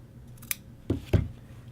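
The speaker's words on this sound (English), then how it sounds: "you will trim your collar itself just that little tiny bit narrower. Basically, you will cut that seam right in half" Scissors trim the seam of a men's shirt collar in a few quick, close snips, three sharp cuts spaced irregularly over a quiet background.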